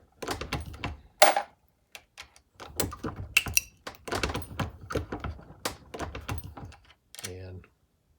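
Nickel .223 Rem cases being die-formed into .300 Blackout brass on a reloading press, each case lubed and struck twice. Close, irregular sharp clunks, clicks and metallic scrapes come in quick bursts, with short pauses between strokes.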